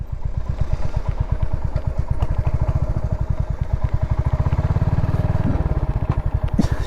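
A motorcycle engine putters nearby with a fast, regular thumping beat, revving slightly near the end over faint crowd noise.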